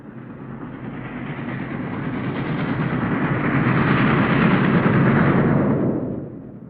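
A wartime train runs along the rails with a heavy rumble that swells as it draws nearer, stays loud for a while, then fades at the end, with no voices.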